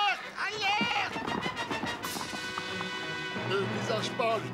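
Cartoon horses gallop in a rapid clip-clop rhythm, mixed with a whinny, other sound effects and a shouted voice, all fairly busy and close.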